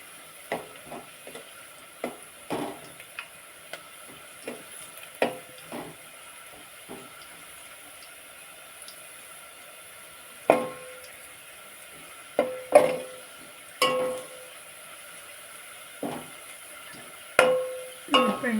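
Chicken curry is stirred in a frying pan, with irregular scraping knocks of a utensil against the pan over a faint, continuous sizzle, some strokes louder and closer than others.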